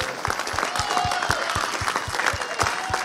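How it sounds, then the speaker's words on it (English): Church congregation clapping at an anniversary service, a steady dense patter of many hands with sharp individual claps standing out, moderately loud and continuous. "Come on, you can clap better than that."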